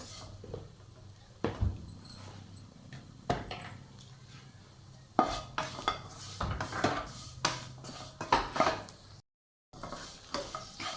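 Masala with a spoonful of garam masala sautéed for chicken mappas, soft sizzling under repeated scraping and clinking of a spoon against the pan, close, with bursts of stirring and a brief silent gap near the end.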